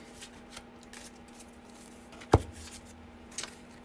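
Chakra oracle cards being shuffled by hand, soft papery riffles and slides with one sharp snap in the middle, close and quiet over a faint steady hum.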